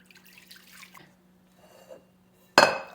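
Water pours into flour for a sourdough dough, arriving as a sudden, loud splash near the end after a quiet stretch with faint background murmur.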